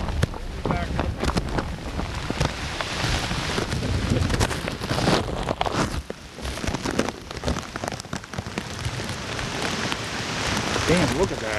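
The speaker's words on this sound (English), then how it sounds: "As you can see, the wind is picked up a lot." Hurricane Irene lashes Dundalk, Maryland, near a pier with strong wind and heavy rain. Gusty, rumbling wind noise hits the microphone and steady rain hiss runs throughout, loud and continuous.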